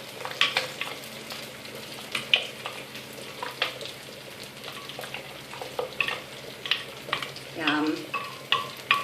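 Olive oil and a mixture sizzling in a pan while being stirred, with repeated scraping strokes of the spoon over a steady low fry; close and moderately quiet.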